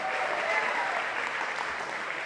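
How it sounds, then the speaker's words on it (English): A crowd applauds a comedian finishing his set at a farm social, a thick, even roar of clapping that stays full and steady throughout. "Chris Locke, everybody, give him a round of applause."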